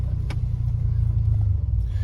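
A low, steady idle from the engine of a 1981 DeLorean DMC-12 with a five-speed, running smooth and even at close range with a brief higher tick near the start, no voices.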